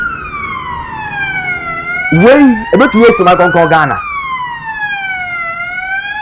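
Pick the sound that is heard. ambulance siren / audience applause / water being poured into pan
ambulance siren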